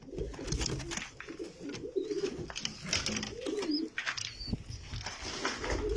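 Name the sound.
Rahma pigeons cooing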